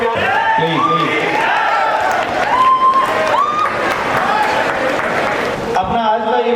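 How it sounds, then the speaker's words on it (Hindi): Loud applause from a crowd at a school Teachers' Day program, sustained clapping with scattered cheers, mixed with voices and some musical tones. "एक बार जोरदार तालियां"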